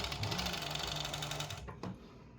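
A sewing machine runs fast and steady while stitching the shoulder seam of a t-shirt, a close mechanical whir with a rhythmic needle hum that stops abruptly near the end.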